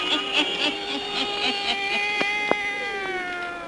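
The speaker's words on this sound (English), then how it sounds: "Satan, her wise black cat" A black cat named Satan meows in an old 1934 witch radio drama, a short series of tonal mews over a faint hissing background with a few soft clicks.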